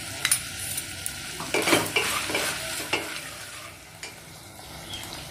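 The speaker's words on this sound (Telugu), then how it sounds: "పచ్చిమిరపకాయలు, కరివేపాకు వేసుకొని ఒకసారి మిక్స్ చేసుకోవాలి" Green chilies and curry leaves are stirred and fried in a pan, a soft sizzle running underneath while a utensil scrapes and clinks against the metal in a few close, uneven strokes.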